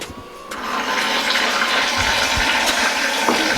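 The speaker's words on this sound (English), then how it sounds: "I just fill up a glass with some water" Water pours steadily from a tap into a drinking glass, a continuous close gushing stream running for several seconds.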